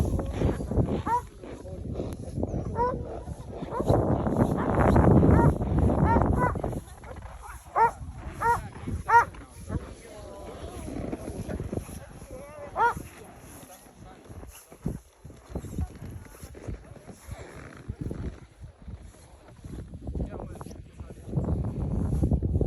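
Sled dogs on Svalbard bark now and then, and their paws and harness gear clatter up close. People talk over the sounds throughout.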